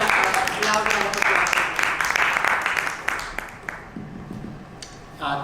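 Audience applause at a fintech panel session of a WLSA 2023 conference: dense, close clapping fills the first few seconds, thins out toward the end, and runs under a talking voice.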